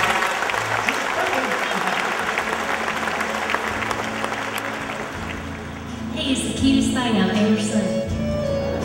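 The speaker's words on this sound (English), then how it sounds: "Give her a nice round of applause." Audience applause for a country singer, a sustained wash of clapping that fades after about six seconds as music and other sound take over.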